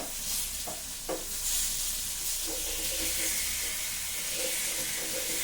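Pepper-marinated fish frying in a pan at home, a steady close sizzle and hiss throughout with a few brief stirring clatters near the start.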